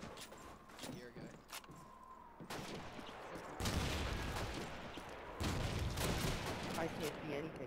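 A frag grenade goes off in Call of Duty 2 multiplayer, a sudden loud broadband blast that cuts in mid-clip amid scattered game gunfire and footsteps, with a second burst following shortly after.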